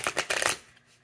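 Tarot cards are riffled and shuffled in two quick, crisp bursts up close, then fall quiet.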